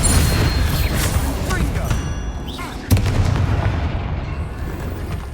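Bombarda and other combat spells in Hogwarts Legacy set off booming blasts and bursts, with a dense rumble throughout and a sharp crack near the middle, loud and close, as a man calls out spell names over them.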